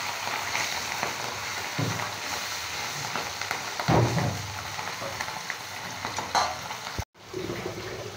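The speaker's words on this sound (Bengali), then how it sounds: "এখান থেকে আমি আরও 3টে পাবদা মাছ ভাজি করে নেব" Pabda fish fry in hot oil with a steady soft sizzle, crackling and spattering throughout, a few louder pops, and a brief dropout near the end.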